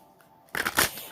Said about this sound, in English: I've already shuffled the cards, so I'll shuffle a couple more times